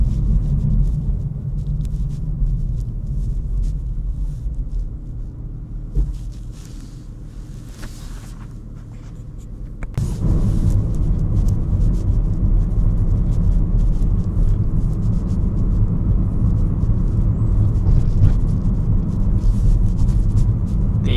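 A 503 hp BMW M3 Competition drives along with a deep, steady engine drone and road rumble, the revs rising to a louder, fuller roar about halfway through, with wind noise over the top.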